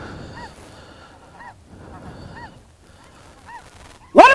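Snow geese in Saskatchewan give several clear honking calls in a loose, repeating pattern, moderately near against a quiet field background, ending with a sudden loud burst.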